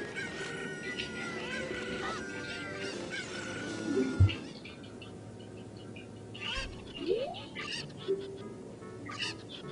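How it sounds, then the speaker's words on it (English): Chickens in the Ocarina of Time video game cluck and squawk in busy overlapping calls over background game music, with a few louder flapping and crowing bursts. "that's a lot of chickens"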